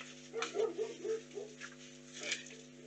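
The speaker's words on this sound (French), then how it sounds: "t'as le chien qui aboie" A dog barks and whimpers a few times indoors, fairly faint and slightly distant, over a steady electrical hum.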